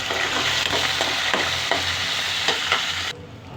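Spices crackle and sizzle as they fry in ghee for a milk upma offering, with steady close frying hiss and occasional stirring scrapes throughout, stopping abruptly near the end.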